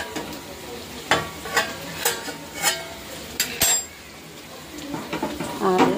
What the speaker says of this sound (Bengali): তো আর একটু ভালো করে কষিয়ে নেব।